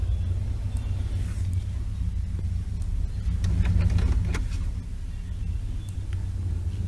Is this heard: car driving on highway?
yes